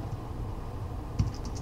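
Quick, light clicking of keys on a computer keyboard while someone programs, quiet and close, with a slightly louder cluster of taps near the end.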